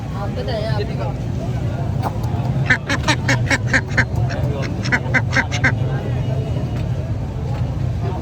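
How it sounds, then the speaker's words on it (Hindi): Three ducks at a bird market quack in a rapid burst of repeated calls, fairly close, over a steady low rumble of traffic. "तीन बतखें हैं"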